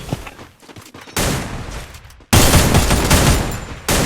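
Gunfire in a battle royale video game, heard as loud, dense bursts of rapid shots that cut in abruptly and run as sustained volleys, with a short gap between bursts.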